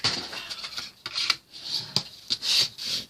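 Folded paper on a journal page is burnished with short, uneven rubbing strokes, the scratchy passes coming in bursts separated by brief pauses, close and fairly loud, with no talking.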